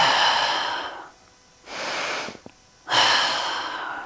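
Slow breathing during a hatha yoga flow, with a long audible exhale, a pause, then another steady breath through the nose; close and fairly soft, with no talking.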